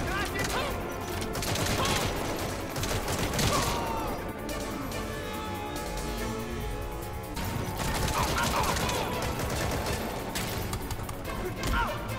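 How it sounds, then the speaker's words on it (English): Rapid gunfire in the Metal Gear Solid V video game, sustained volleys of cracking shots and bursts over a steady backdrop of game sound, with someone talking through it. "who's shooting at me?"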